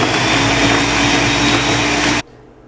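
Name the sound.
blender mixing protein shake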